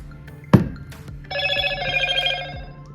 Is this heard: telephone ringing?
yes